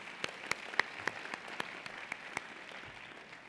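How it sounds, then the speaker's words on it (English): Round of applause at a business town hall for the moderators and panelists: soft, distant crowd clapping with a handful of sharper individual claps standing out over a steady wash. "let's give another round of applause to our moderators, Roland Martin and Tommy Dortch"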